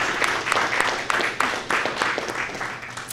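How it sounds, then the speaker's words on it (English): Audience applause at a service dog graduation held in a prison yard, a steady mid-sized round of clapping with sharper individual claps standing out, fairly close and sustained throughout, with some voices mixed in. "Can we get a round of applause real quick?"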